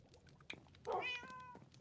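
A cat meows once with a clear rising and falling tonal call in the middle, followed by a shorter cry, fairly close and alone over a quiet background.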